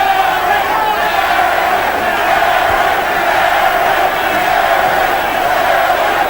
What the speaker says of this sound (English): Crowd animated, enjoying this one.